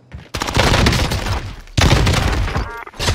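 Call of Duty Warzone gunfire from a Kar98k loadout match: loud, close bursts of rapid shots in two sustained volleys, separated by a brief pause, ending with another short burst.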